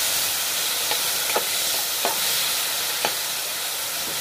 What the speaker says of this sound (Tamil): தக்காளி கட் பண்ணி வச்சுருக்கோம். அதை வந்து இருக்க நெய்யோடு சேர்த்து நம்ம இதை ஆட் பண்ணிக்கலாம்.